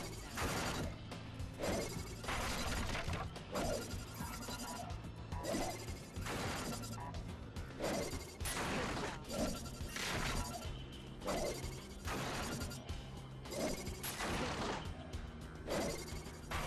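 Wingstick striking pop-up targets in RAGE, a fast regular series of sharp shattering hits about once a second over constant background game sound, with no talk.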